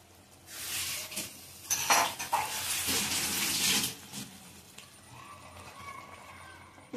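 Water is poured from a container into a pan of freshly made vegetable masala, a close splashing pour lasting a few seconds with a brief gurgle at the end, no talking over it.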